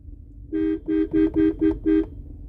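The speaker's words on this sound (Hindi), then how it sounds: "हॉर्न बजाएंगे, आगे डोगी बैठा है" A car horn honks six times in quick succession at a dog sitting ahead, short bursts with a steady tone over low engine rumble, loud and close.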